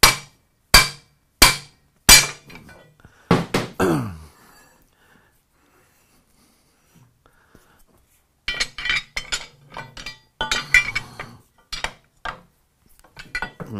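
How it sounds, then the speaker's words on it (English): A spanner breaks loose a nut on a lathe's four-jaw chuck: a series of sharp, close metallic clanks and knocks, then a quiet pause, followed by a busier run of clinks and rattling metal. "let's take our little spanner here and we're going to go ahead and break the nut loose here"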